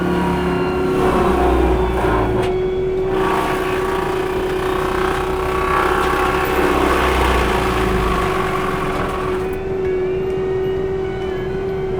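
A skid steer running an industrial mulcher attachment sends out a loud, sustained engine roar with a steady whining tone as the motor winds up, easing slightly near the end.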